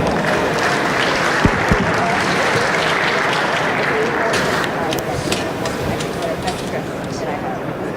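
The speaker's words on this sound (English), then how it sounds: "Can we give them a round of applause, please?" Audience applause fills a conference hall at a fintech summit, a sustained dense clapping that holds steady for several seconds before thinning slightly toward the end.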